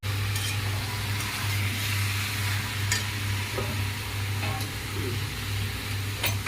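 Jackfruit fries in hot oil in a pan, a steady sizzle with occasional stirring scrapes and clinks, over a low continuous hum in the background.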